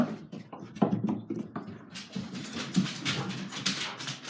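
A pet dog whimpers, pants and gives short yelps close by, in irregular bursts with little pauses and some tapping, its restless noises filling the whole moment.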